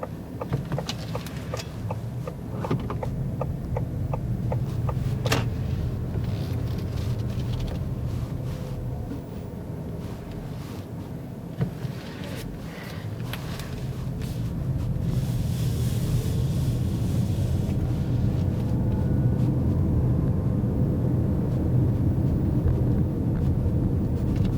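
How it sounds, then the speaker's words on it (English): Inside a 2021 Ford Mustang Mach-E electric car on the move, a steady low rumble of road noise fills the cabin, with a faint hiss from the climate fan running on low and occasional small clicks. "But most of the noise you'll hear in this vehicle is just road noise. There's a little bit of a fan noise."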